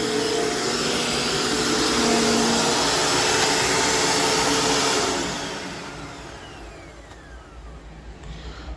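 A Dirt Devil Featherlight Jaguar 12-amp vacuum cleaner runs with a loud, steady motor whine and airflow rush, then winds down partway through as the motor spins down to a quieter hum.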